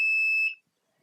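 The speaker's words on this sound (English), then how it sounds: "so loop set off the alarm," A buzzing electronic alarm from an Arduino-built robot game, one steady high-pitched tone held loud for about half a second, then cut off abruptly into silence.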